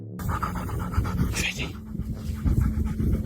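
A dog pants rapidly and rhythmically close to the microphone, with quick breathy puffs and a faint whimpering tone, no talk.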